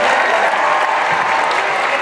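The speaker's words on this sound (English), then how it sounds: "Go ahead and cheer for that if you don't know what it means." Loud, sustained cheering and clapping from a school event audience, a dense unbroken wash of applause mixed with crowd voices.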